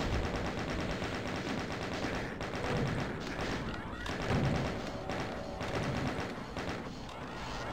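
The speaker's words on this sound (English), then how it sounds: "Oh, good thing I got rocket launcher." Rocket launcher fire in DOOM: a dense, continuous barrage of thudding blasts and rapid gunfire rattle, with repeated heavy impacts rolling through the whole stretch at moderate loudness.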